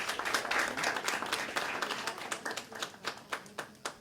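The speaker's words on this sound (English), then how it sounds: "So a round of applause for all our teams, both teams." An audience at an inter-secondary school debate applauds the teams, with a dense burst of clapping that thins into a few slower, distinct claps near the end.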